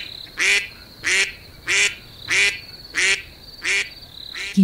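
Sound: duck crying out in a story

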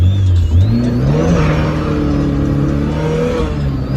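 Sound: Tofaş Şahin car engine revving while driving

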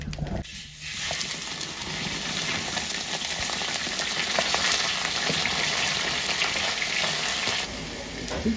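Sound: meat frying in oil on a comal

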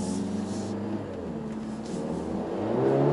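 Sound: Mercedes A45 S AMG engine sound in race mode

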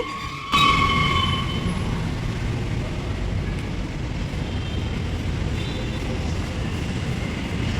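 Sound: metro train arriving at station

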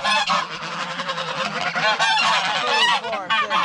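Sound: geese honking as they are let out

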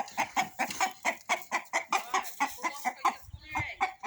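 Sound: chickens clucking

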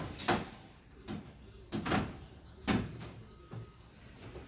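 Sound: pulling side door off a Sterrad 100S sterilizer

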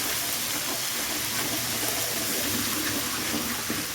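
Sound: ginger garlic paste frying in oil

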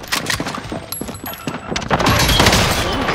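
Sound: gunfire in a shooter video game

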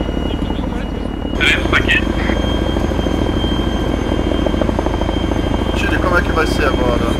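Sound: helicopter flying in video game Arma 3

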